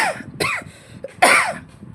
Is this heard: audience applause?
no